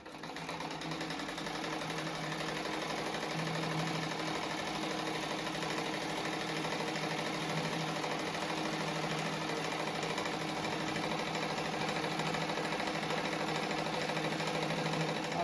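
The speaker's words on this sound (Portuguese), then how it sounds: "agora eu vou passar uma costura em toda a volta, para depois recortar e colocar o viés" A sewing machine runs steadily while stitching around the edge of a crazy patchwork rug, a continuous close mechanical whir with no pauses.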